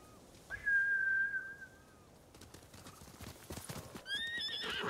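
A samurai horse in the video game Ghost of Tsushima lets out a loud, drawn-out whinny, followed by a scatter of hoof clip-clops and another high neigh near the end.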